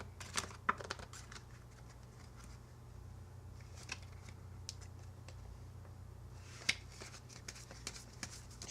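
A deck of playing cards is shuffled by hand in a quiet room, with faint soft riffles and snaps and a couple of sharper clicks over a low steady hum.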